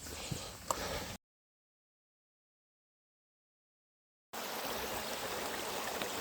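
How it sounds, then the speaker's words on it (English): A creek flowing in spring along the Ozark Highlands Trail, a soft, steady wash of running water broken by a long silent gap, with faint sounds near the start. "The water's flowing good this spring."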